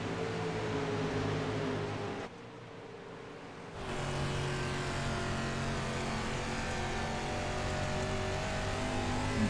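A race car circles a racetrack during a Checker Flag Promotions event, its engine a loud, steady roar that dips briefly, then returns at full strength and holds to the end.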